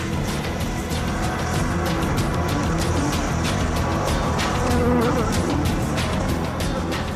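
A steady, dense buzzing drone of many Africanized bees swarming, loud and continuous, with no voices.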